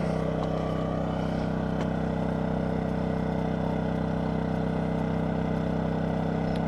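DuroMax XP2000is inverter generator running at a 750 watt, half-load setting, a loud, steady engine drone with a strong low hum, continuous and close, with no talking.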